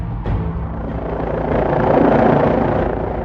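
A helicopter hovers or passes overhead, its loud rotor thump and turbine roar steady and close, swelling slightly louder midway, with no voices.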